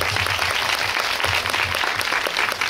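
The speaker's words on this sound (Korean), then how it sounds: "다 같이 박수 한번 칠까요?" Audience applause at a Korean indie cinema screening and post-film Q&A with cast members, a steady dense wash of clapping held at an even level for the whole stretch, with no voices over it.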